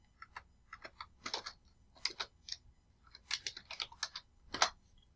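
Keys clatter on a computer keyboard in short irregular bursts as a name is typed into a spreadsheet, close and fairly quiet, with no talking.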